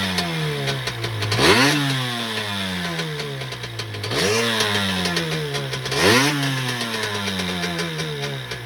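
A 2002 Yamaha SuperJet jet ski engine with a factory pipe revs up and settles back three times in a row, a buzzy motor idling between rising bursts, close and fairly loud.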